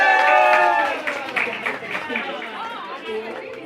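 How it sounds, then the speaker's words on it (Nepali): An audience claps and cheers for a senior folk singer at a 50th wedding anniversary celebration, the applause loud and close, mixed with crowd chatter and a voice speaking over it. "जोरदार ताली दिदीको लागि"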